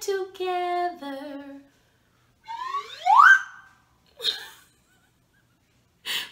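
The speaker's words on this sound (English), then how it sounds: "My slide whistle went up." A few steady piping tones, then a slide whistle swoops upward in one bright rising glide, followed by short breathy bursts and silence.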